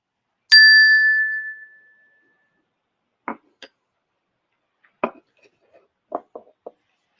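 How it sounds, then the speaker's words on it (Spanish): A single clear bell strike rings out and fades slowly. Faint scattered knocks and taps follow in the quiet afterward. "comenzamos con el sonido de la campana"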